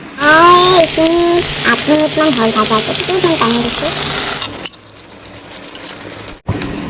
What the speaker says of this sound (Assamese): তেনেকৈ আৰু 10 মিনিটমান ভাজিম